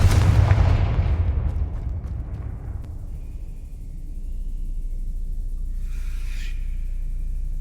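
A Confringo blast spell explodes in Hogwarts Legacy, a loud deep boom at the start that decays over a couple of seconds into a low rumble, followed by faint magical shimmer tones.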